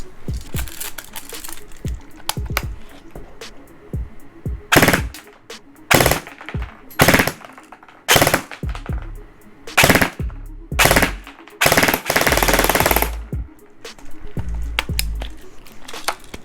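An Elite Force HK MP5 Limited Edition airsoft gun fires full auto in a series of loud, close, rapid rattling bursts separated by short pauses, with no speech.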